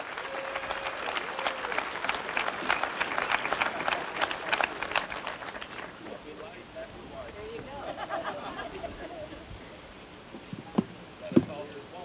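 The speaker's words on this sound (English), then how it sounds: "So ladies and gentlemen, a round of applause" Applause from a crowd at a Veterans Day event in Amherst, Ohio, steady clapping that fades after several seconds into murmuring, with a couple of sharp knocks near the end.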